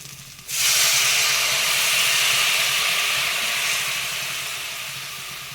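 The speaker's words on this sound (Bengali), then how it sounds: "এবার আমি সামান্য পরিমাণ জল দিয়ে দিচ্ছি" Water poured into hot spice paste in a pan for a pabda-style fish oil curry, bursting into a loud hiss that starts abruptly and slowly tapers while it keeps sizzling, with no talk.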